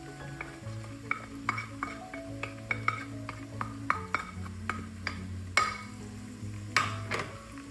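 Laurel leaves and onions fry with garlic in a pan over medium-high heat, a steady close sizzle broken by repeated clinks and scrapes of a utensil stirring against the pan.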